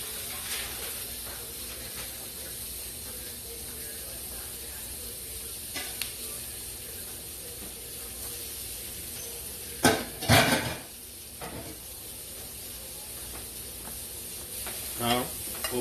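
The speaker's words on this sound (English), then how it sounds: "Put my onions right there in the same pan that I just cooked my zucchini." Onions sizzle in the same pan just used for cooking zucchini, a steady hiss of frying broken by a few sharp clatters and scrapes of a utensil partway through.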